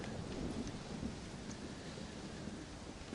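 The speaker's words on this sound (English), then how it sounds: "Well, it's just the storm, John." A thunderstorm in the video game Red Dead Redemption Undead Nightmare rumbles low and continuously beneath steady rain hiss, fairly quiet and unbroken, with no voices.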